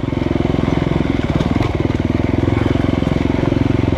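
Husqvarna FE350 dirt bike running in a fairly high gear, a loud, close, rapid engine pulse with a rough crackling edge, steady throughout with no talking.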